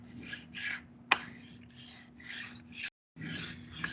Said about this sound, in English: You can color over your moon if you want, or you can go around it.